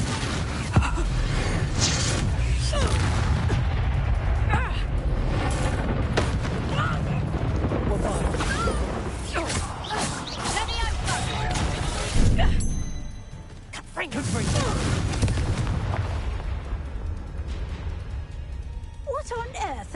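Confringo fire-spell explosions in Hogwarts Legacy combat, a series of booming bursts and crackling blasts under dense game noise, with characters speaking throughout and a brief lull near the middle.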